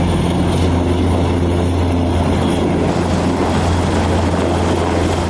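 A firefighting helicopter flies over a large warehouse fire after a missile strike in Dnipro. Its loud, steady rotor and engine drone holds unbroken throughout, with no voices.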